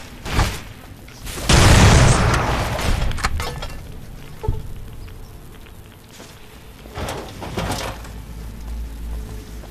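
In the Fallout: New Vegas video game, a cannon fires with a loud, booming blast, followed by scattered thuds, lighter impacts and rumbling game noise that fade out over several seconds.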